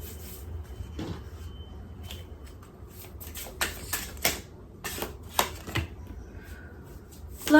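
Tarot cards are shuffled close up in quiet surroundings, making soft riffling and a series of sharp taps and slaps as the deck is handled.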